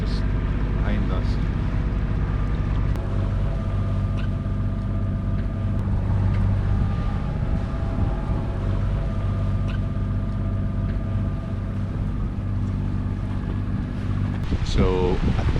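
A sailing boat motors under engine through the Sound of Kerrera just after leaving Oban Marina on Scotland's west coast, giving a steady, loud low drone that runs throughout with wind noise over it.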